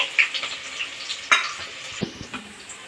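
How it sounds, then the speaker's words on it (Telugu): Chopped onion pieces sizzle in hot oil, a continuous near crackle with occasional scraping and knocks from a spoon stirring them in the pan. "తరిగి పెట్టిన ఆనియన్ ముక్కలు ఇది బాగా బ్రౌన్ కలర్ వచ్చేంత వరకు ఫ్రై చేద్దాము"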